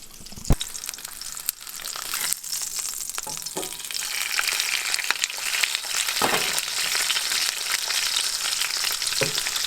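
NY strip steak and garlic sear in a hot pan, a continuous bright sizzle that swells louder over time, broken by a few utensil knocks and scrapes, no talking.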